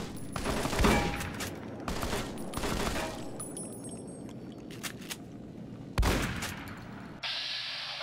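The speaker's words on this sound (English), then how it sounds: "So we're gonna go with the shotgun because that has that damage piercing" Shotgun blasts from the video game Fallout New Vegas, several loud booming shots spaced irregularly with ringing tails, one final clank at the end, no talk.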